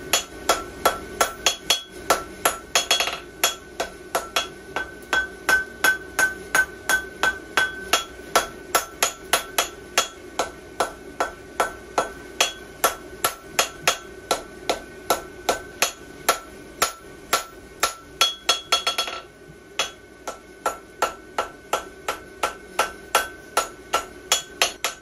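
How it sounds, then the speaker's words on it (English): Hammer blows on an anvil forge-welding a horseshoe crack, a steady stream of sharp metallic strikes at a quick even rhythm lasting throughout, loud and close with ringing overtones and one short pause. "I'm just gonna do a quick little forge weld and clean up that crack real quick."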